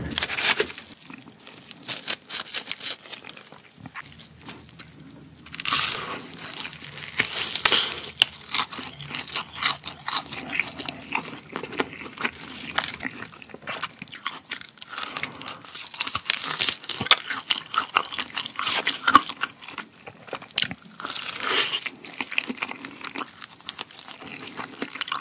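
Crispy fried chicken eaten up close, with loud crunching bites, tearing and chewing in irregular bursts separated by quieter pauses over about twenty-five seconds.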